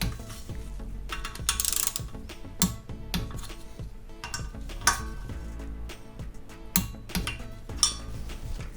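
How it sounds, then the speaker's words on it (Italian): A torque wrench set to 16 Nm tightening bolts on a Malaguti Fifty scooter engine, producing close, irregular bursts of sharp ratchet clicks and metallic ticks with brief pauses between strokes. "Per il serraggio finale impostiamo la chiave a 16 Nm"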